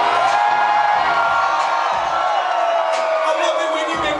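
Concert crowd at a live hip-hop show roars with cheers, whoops and shouts, a dense, loud wall of voices sustained throughout with a few individual yells standing out.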